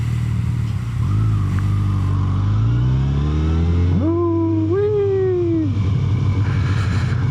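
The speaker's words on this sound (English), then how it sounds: "A little bit of engine braking right there." Motorcycle engine braking with a steady mid-pitched engine drone that rises and falls in revs, including a clear climbing rev swell partway through, close and loud with no talking.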